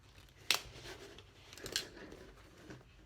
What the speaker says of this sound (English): I'm just gonna punch my holes